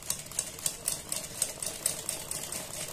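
A sewing machine stitches a fabric neck design in short, rapid clicking bursts with a soft mechanical whir underneath, close and moderately quiet.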